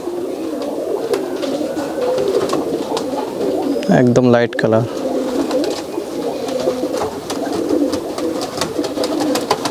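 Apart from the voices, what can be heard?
Giribaz pigeons cooing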